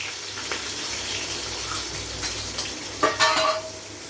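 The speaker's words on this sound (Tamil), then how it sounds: "நல்ல வெங்காயம் வதங்கி வரட்டும்" Sliced onions, about 400 grams, frying with spices in a pan for chicken biryani, giving a steady soft sizzle with scattered clinks and a brief louder scrape of stirring near the end.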